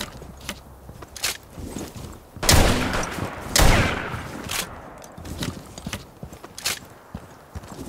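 Wild gunfire erupts in Rainbow Six Siege, with loud, close bursts of shots and a rapid fusillade clustering midway, alongside scattered footsteps and impacts, with no talking.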